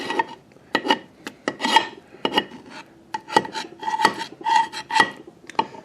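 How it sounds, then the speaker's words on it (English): A tool scrapes out the failed part of a PTU, making harsh, close rasping strokes and metallic scratches in uneven bursts, loud and free of speech. "if you take and you scrape it out"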